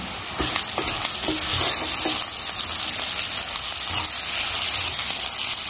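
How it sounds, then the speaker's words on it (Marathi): Cinnamon sticks, cloves and peppercorns fry in hot oil with a loud, steady close-up sizzle, and occasional stirring scrapes sound over the constant crackle. "हे मिरी छान परतून घ्यायचं"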